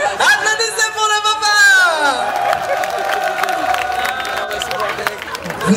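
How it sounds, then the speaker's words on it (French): An audience applauds and cheers for a father at a live stage show in Senegal, a steady wash of clapping and crowd noise with a loud voice over it. "Applaudissez pour le"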